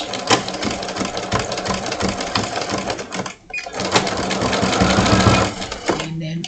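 A sewing machine runs fast and close as it back stitches fabric, its rapid rattling needle action continuing with a brief pause midway before resuming, loud and mechanical.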